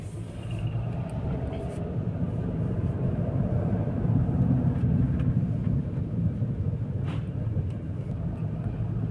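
Mercedes ML 350 CDI on a road test after a steering rack replacement, giving a steady low engine and road rumble from inside the cabin, continuous throughout with a slight swell in the middle.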